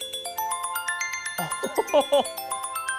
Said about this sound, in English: And let's not forget about the all-new alert and ringtones. My favorite right now is Waves.